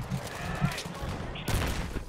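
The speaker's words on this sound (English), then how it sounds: "Oh, I'm getting shot at everywhere." Gunfire in Battlefield 3 crackles steadily through a busy multiplayer battle, with a louder burst near the end over a constant din. A voice is heard in the mix.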